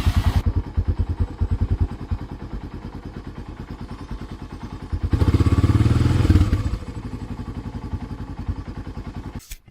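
An old quad bike motor runs with rapid, even thumping pulses at idle, then revs up loudly for a second or so before settling back to idle and cutting off at the very end.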